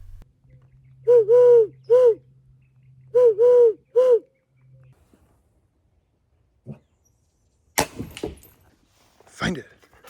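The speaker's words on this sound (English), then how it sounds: "I ended up hearing an invasive Eurasian collared dove." A Eurasian collared dove calling outdoors, two pairs of clear, close three-note coos separated by a short gap, followed by quiet rustling and a few sharp knocks.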